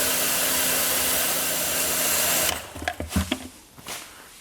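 A pressure washer runs steady and loud with a dense broadband hiss for about two and a half seconds, then cuts off, leaving scattered clunks and handling noises.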